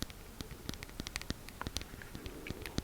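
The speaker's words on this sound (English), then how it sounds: "and this is the bottle." Soft, irregular tapping and rustling of a plastic bottle being handled up close, quiet and scattered over a faint hiss.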